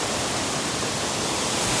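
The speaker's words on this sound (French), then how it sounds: "Il y a la cascade derrière." Waterfall at Cat Cat village in northern Vietnam, a steady broadband rush of falling water that holds an even, close roar throughout, with no voices.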